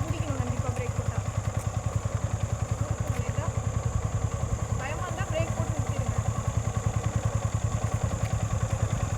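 A motorcycle engine putters with a steady rapid thumping rhythm as a learner rides it, close and continuous, with people talking over the engine noise.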